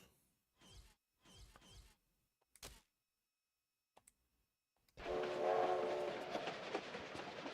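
A train rumbles along loudly in the Tomb Raider IV video game, its steady clattering roar starting abruptly after a few sharp footsteps and thuds on a quiet background.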